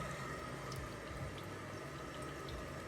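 Room temperature water pouring into flour for no-yeast homemade bread, a steady soft trickle and splash heard close and continuous throughout.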